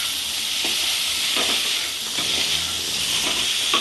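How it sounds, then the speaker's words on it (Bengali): Potato pieces dropped into a pan of spice paste made with chilli and ground cumin sizzle in a steady, close hiss, with a few faint stirring scrapes over the top. "এবার আমি মশলাতে আলুটা দিয়ে দেবো।"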